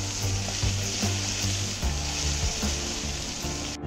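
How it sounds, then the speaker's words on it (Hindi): Finely chopped onions crackle in a pan with garlic and ginger for burnt garlic veg fried rice, a steady sizzle punctuated by regular soft knocks of stirring. "ये प्याज को पकाएंगे"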